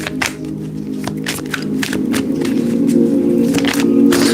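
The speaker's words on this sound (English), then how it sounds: "Shuffling for Gemini." Close, continuous shuffling of tarot cards with repeated crisp riffles and slides at an uneven rhythm, steadily loud over a low droning background tone.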